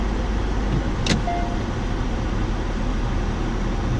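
A 2015 Kia Cadenza idles just after being started, a steady, smooth low engine hum with a faint cabin hiss and a brief electronic chime partway through.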